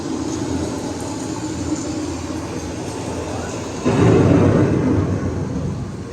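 Steady rumbling storm noise with rain-like hiss that suddenly grows louder and heavier partway through, continuous and enveloping, no voices.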